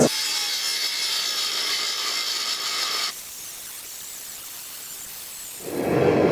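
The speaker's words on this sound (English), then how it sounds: "now I'm going to go ahead and grind off these welds" An angle grinder works the forge welds off a steel billet for a laminate blade, a loud hissing abrasive whine for about three seconds that then drops to a faint tail before a low rumble rises.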